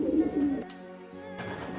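Racing pigeons in a loft's old bird section, cocks and hens housed together, give off soft, low rolling coos that overlap into a steady murmur, loudest at the start and continuing throughout.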